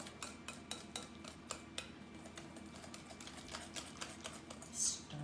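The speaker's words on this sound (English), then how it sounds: "Stirring." Sweet potato mixture with butter being stirred in a bowl, giving a quiet, steady run of soft scraping and light tapping strokes, with a brief brighter clink near the end.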